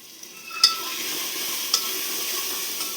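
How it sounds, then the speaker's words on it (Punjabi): Browned onions with fenugreek fry in a pan, giving a steady soft sizzle, while a ladle stirs them with a couple of light metallic scrapes. "ਹੁਣ ਇਹਨੂੰ ਆਪਾਂ ਕੜਛੀ ਨਾਲ ਹਿਲਾਵਾਂਗੇ"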